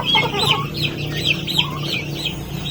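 Native chickens in a coop cluck in close, repeated, rising and falling calls. The clucking stays loud and clear throughout, with no talk.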